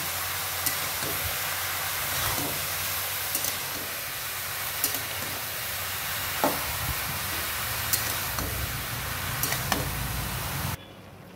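Chopped bottle gourd stirred in a pan, with a steady soft sizzle and occasional spaced scraping knocks of the spoon, fairly quiet and continuous, ending abruptly.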